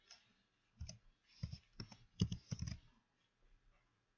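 Mouse clicks and bursts of keystrokes on a computer keyboard while adding an option to a Google Forms quiz: a few separate clicks followed by quick clusters of close, fairly loud typing, then fading to faint taps.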